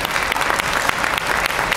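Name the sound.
applause from the meeting audience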